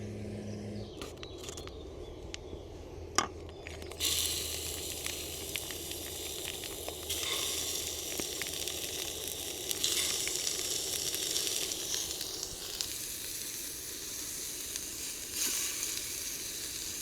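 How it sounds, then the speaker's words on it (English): Chicken frying in a pan on a camp stove outdoors, heard as a steady, close hiss and sizzle that stays dense throughout, with a sharp clink early on and some stirring scrapes, with no talking. "I'm going to just cook my chicken a little bit"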